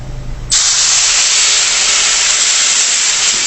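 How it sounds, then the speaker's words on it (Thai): Water poured into hot sooji halwa in a pan sets off a sudden loud burst of hissing steam that stays intense and steady after a low rumble, close with no talking. "ก็ใส่น้ำเลยนะครับ"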